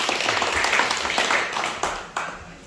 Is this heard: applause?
yes